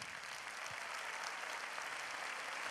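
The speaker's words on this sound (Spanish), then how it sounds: "Denle el aplauso más grande a él." A church congregation applauds during a worship service, a steady, dense wash of clapping that holds evenly throughout without breaks.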